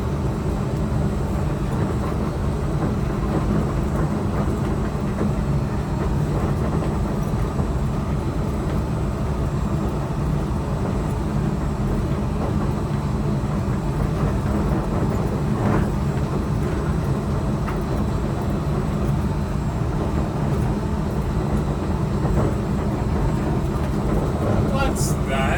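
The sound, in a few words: Disneyland monorail ride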